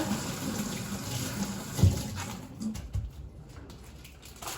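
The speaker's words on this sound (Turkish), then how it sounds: "Böyle ben teker teker yıkayacağım valla." Tap water running steadily over groceries being washed one by one in a kitchen sink, a continuous close splashing hiss with a few knocks and bumps of items handled under the stream, no voices.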